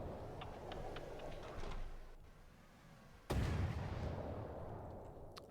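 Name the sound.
tank gun firing in video game From the Depths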